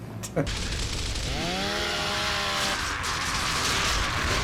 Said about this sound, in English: You want to see the chainsaw again?